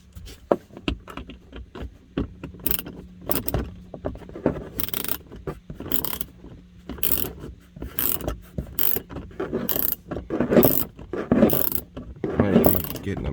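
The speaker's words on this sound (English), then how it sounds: "I might have to still use the ratchet." A ratchet wrench tightens a bolt inside a Ram 1500 pickup dashboard during a dash speaker install, giving repeated bursts of rapid close clicking with short pauses between strokes throughout.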